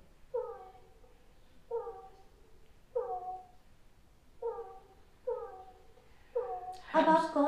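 A cat's meow played back through an Alexa smart speaker, repeated six times at a steady, even pace, each call clear and moderately loud, with a brief burst of other noise at the very end.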